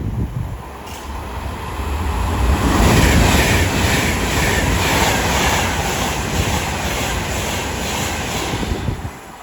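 An Avanti West Coast train from London Euston to Liverpool Lime Street passes through Watford Junction with a loud, steady rolling rumble that swells after the first couple of seconds and holds, with no voices.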